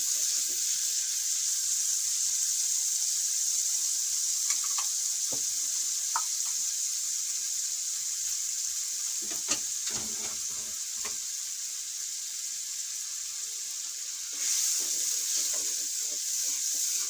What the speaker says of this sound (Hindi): आधे गिलास पानी शामिल करेंगे ताकि अच्छी तरह मसाला भुन जाए।